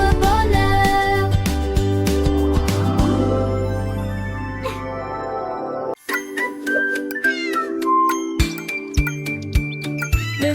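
A cat meows several times over a bright children's song with tinkling chimes and a playful bouncing melody, the meows rising clearly above the music in the second half.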